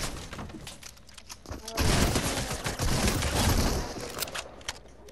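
Gunfire in Fortnite erupts in a dense, loud burst of rapid shots with cracking impacts, sustained for several seconds after a quieter lead-in, with a voice speaking faintly in the mix.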